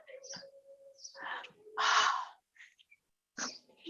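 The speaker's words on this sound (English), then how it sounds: "Can you hear the birds? I have birds." A few short bird calls and chirps sound outdoors, scattered and moderately distant, with quiet gaps between them.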